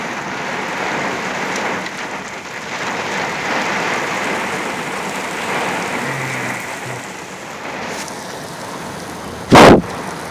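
Very heavy rain from a derecho-type storm in Oklahoma pours steadily and loudly, a dense close hiss with gusty surges, ending in a sharp, loud crack of thunder.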